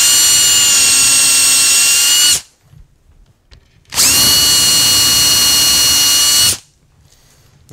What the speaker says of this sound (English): Okay, so back to our drill.